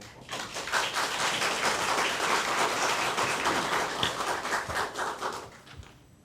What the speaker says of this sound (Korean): 나오실 때 박수로 맞이해 주시겠습니다.